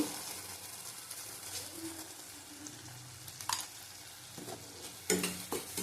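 Pointed gourd and chicken curry sautéed with salt, a faint continuous frying sizzle broken by a few spoon scrapes and clinks against the pan toward the end.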